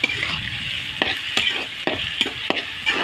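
Chopped tomatoes sautéing with softened onions in an oily pan for a neem flower kuzhambu, a steady close sizzle broken by several sharp scrapes and knocks of a stirring spoon.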